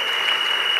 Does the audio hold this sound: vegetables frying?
no